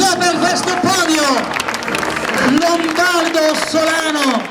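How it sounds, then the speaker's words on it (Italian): A crowd applauds the podium finishers at a rally awards ceremony, steady clapping mixed with loud amplified announcer speech throughout. "Facciamo un applauso per questo podio"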